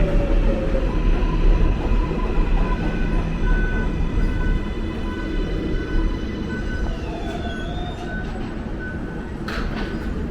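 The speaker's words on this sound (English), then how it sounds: "This is a Flushing Main Street bound 7 local train." A New York City subway 7 local train bound for Flushing–Main Street rumbles steadily through a station in Sunnyside, Queens, with a loud, continuous roar and faint rail squeals.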